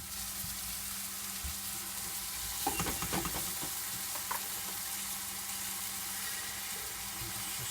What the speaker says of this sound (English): I'm just sauteing down now